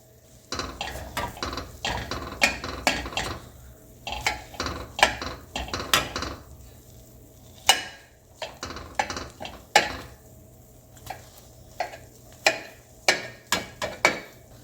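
A spatula or knife chops a cooked omelette in a metal pan, producing a series of sharp, close clinks and scrapes in an irregular rhythm, with no talking.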